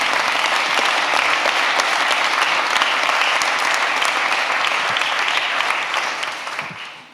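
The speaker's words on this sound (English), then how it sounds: "Under your applause again." Sustained audience applause fills a summit hall, dense and steady for about six seconds before tapering off at the end, with no voices over it.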